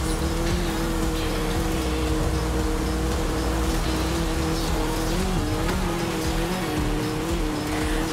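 Car driving in the video game Forza Horizon 5, a steady loud engine drone with occasional tire squeal, continuous throughout with no talk.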